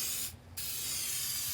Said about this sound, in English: it says you spray it on, you let it tack, let it get tacky